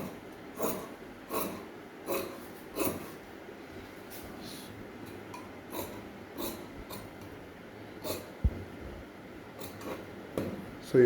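Scissors cut through two layers of fabric while a kids' elastic-back short is being cut out, giving a steady series of soft, crisp snips about every second, close by with no talking.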